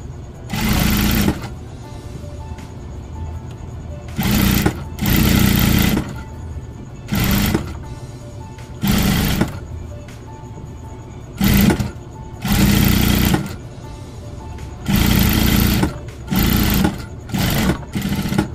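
An electric sewing machine stitches the folded hem of cargo pants in repeated loud, close bursts of a few seconds each, with short quiet pauses between runs.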